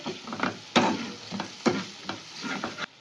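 A spiced egg roll filling with turmeric powder is stirred in oil that is starting to separate, making a frying sizzle broken by about four sharp spatula scrapes against the pan in an uneven rhythm.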